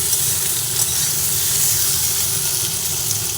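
Parboiled potatoes sizzle and fry in hot oil while being stirred, a steady close hiss with soft scraping running throughout.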